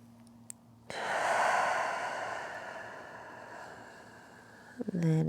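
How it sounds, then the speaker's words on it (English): A long, steady open-mouth exhale through the lips during a yoga breathing practice, a broad breathy rush swelling and slowly fading over several seconds, followed by a brief soft sound at the end. "Starting with some cleansing exhales through the lips to begin."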